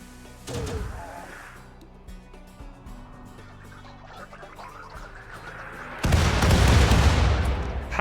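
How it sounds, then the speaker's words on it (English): A six-mortar barrage in RimWorld: a single heavy boom early on, scattered distant thuds, then a sustained roaring rumble of overlapping blasts near the end. "I got 6 mortars ready to bear down on them. So, bombs away."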